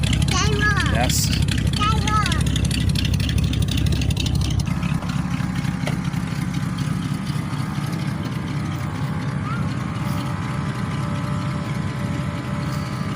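A parked car's engine idles steadily and close by with a low rumble throughout, while people talk over it and some chirping sounds in the background early on.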